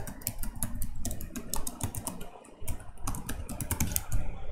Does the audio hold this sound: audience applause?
no